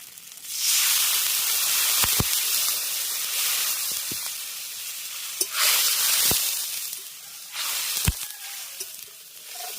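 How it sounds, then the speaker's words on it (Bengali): Water poured into a pan of fried small pabda fish in mustard spice paste, giving a broad steady hiss and sizzle with a few sharp clicks and bumps, close and continuous. "ভেজে নিয়েছি এবার এর মধ্যে দিয়ে দেবো জল"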